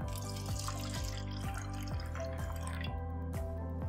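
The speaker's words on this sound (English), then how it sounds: "Let me go ahead and pour this in." Pedialyte pours into a container in a close, quiet stream, a bubbling glug with a regular rising gurgle repeating about every half second.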